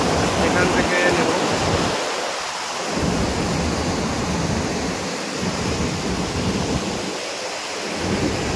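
A steady, loud roar of rushing water at Hundru Waterfalls in Jharkhand, a dense broadband wash that fills the whole stretch, with brief dips of the low rumble where the sound briefly thins.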